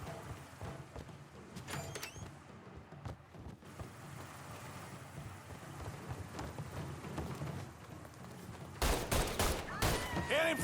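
Bursts of gunfire in the video game Mafia 3, a loud rattling volley breaking in near the end over a dense rumbling game mix.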